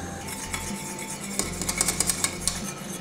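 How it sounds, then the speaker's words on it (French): Custard cream for a Bras de Gitan stirred over very low heat in a heavy-bottomed saucepan: a spoon scrapes and clinks against the metal pan in a steady rhythm, with sharper clatters toward the end and no voices. "Faites réchauffer à feu très doux sans cesser de remuer jusqu'à ce que la pâte ait épaissi."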